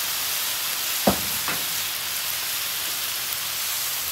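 Worcestershire sauce sizzles on a hot griddle with mushrooms and steak, a steady close frying hiss with two brief sharp crackles early on and no voices.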